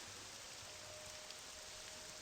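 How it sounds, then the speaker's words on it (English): Steady rain falls in the Morrowind game world, a soft even hiss of drops on surfaces that runs unbroken and fairly quiet throughout, with no voices. "But it's raining."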